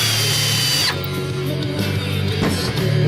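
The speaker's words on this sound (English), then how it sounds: "If your drill's anything like mine, you can probably split this board pretty easily" A cordless power drill runs under load driving a screw into a wooden board for acoustic panels, a steady close whine that drops in pitch after the first second and keeps grinding with a brief surge near the end.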